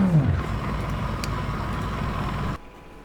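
A loud, steady engine drone from an Audi GT3 race car in Project CARS 2 holds a constant note, then drops abruptly near the end, as if cut off or throttled back.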